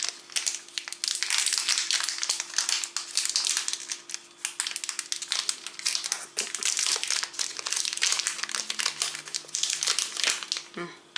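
A Coffechino tiramisu-flavoured candy wrapper is crinkled and torn open, giving close, dense bursts of plastic crackling with a low hum underneath.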